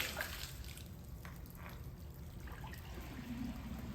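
Water trickles and drips steadily at a low level from a walk-behind floor scrubber's drain hose, a soft continuous draining sound with faint splashes.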